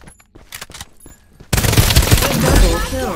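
The White Dwarf gun in Farlight 84 fires in a rapid, dense burst that bursts in loud partway through, following quieter game sounds and some speech.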